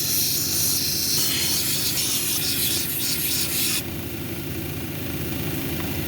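Stromatolite cabochon being ground on a 220 grit wheel, giving a steady close rasping hiss over a constant motor hum that lightens partway through, with no talking.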